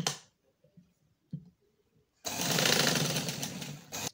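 A sewing machine stitching the final seam on a poncha garment starts after some quiet handling noises and then runs as a loud, steady whir for nearly two seconds.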